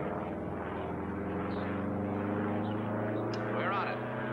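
A small red Air Coupe propeller plane flies near San Francisco airport, a steady droning engine hum sustained at moderate distance, with voices talking over it.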